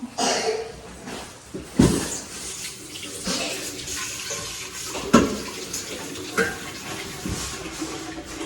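Tap water runs steadily while a pot is washed in a sink in a new home, with occasional clanks and splashes of the pot against the basin close by.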